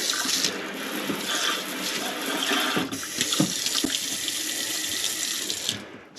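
Water runs steadily from a galley sink faucet, a continuous close hiss of splashing flow lasting several seconds with slight surges and a few gurgles, cutting off right at the end.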